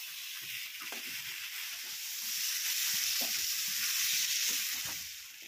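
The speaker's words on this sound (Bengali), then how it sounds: "ভেজে রাখা আলু আর পায়াগুলো দিয়ে ভালো করে কষিয়ে" Fried potatoes and mutton trotters being sautéed for a Bengali mutton paya curry, with a steady hiss of frying and soft, irregular stirring scrapes that swell slightly midway.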